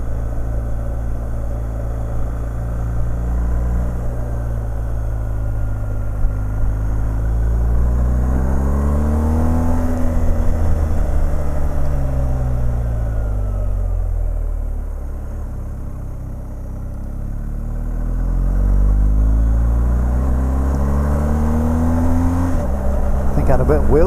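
A BMW R 1250 GS motorcycle accelerates hard on a road, its engine note climbing loudly and close by, easing off, then surging upward again over a low rumble of wind.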